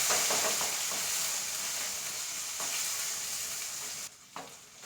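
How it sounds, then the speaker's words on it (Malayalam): Crushed garlic, curry leaves and green chili frying in a pan for papaya thoran, a dense close sizzle with stirring that thins out near the end. "പച്ചമുളക് ഇതെല്ലാം അങ്ങ് ഇട്ട് കൊടുക്കാം"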